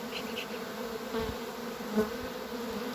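A steady, dense droning buzz of a honey bee swarm being driven into a hive, continuous and close, with no talking.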